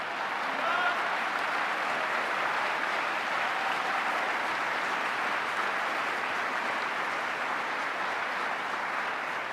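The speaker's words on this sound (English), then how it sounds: "Clap for that, folks, because she deserves it." Loud, sustained applause from a large crowd at a Senate confirmation hearing, a continuous roar of clapping that stays constant from start to finish.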